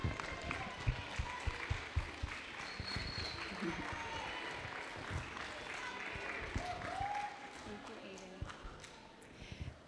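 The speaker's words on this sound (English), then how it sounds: "So round of applause for Aiden as he comes up" A middle school assembly audience applauds a student walking up for an award, a scattered patter of claps mixed with crowd murmur and talk throughout.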